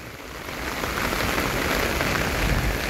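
Heavy rain pours down in a thick, roaring wash of drops that swells slightly louder over a few seconds, close and unbroken.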